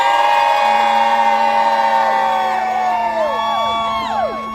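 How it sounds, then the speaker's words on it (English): Striking education workers at a labor rally scream and cheer in a loud, sustained roar, with piercing whistle- or horn-like tones sliding over the crowd noise. "I want to hear you guys scream."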